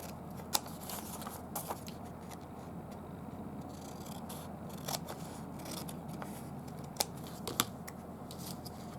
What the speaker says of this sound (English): step 2 is to just trim a little piece off each end